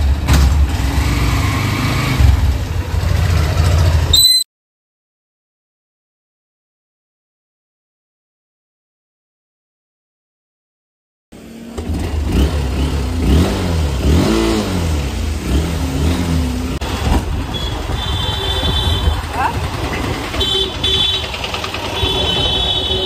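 A motorbike engine revs loudly and steadily, its pitch climbing and falling in several throttle bursts, cut by a stretch of total silence partway through before the engine noise resumes.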